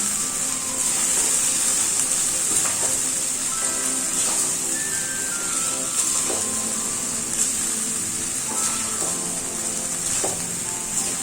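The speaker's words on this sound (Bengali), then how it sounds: "এবার আমি মশলার সঙ্গে আলু ও কাঁকরোলটাকে ভালো করে মিশিয়ে নিচ্ছি।" Fried potatoes and kakrol being stirred into spices in a pan, a continuous sizzle with scattered scraping clinks of the spoon throughout, steady and close, no talk.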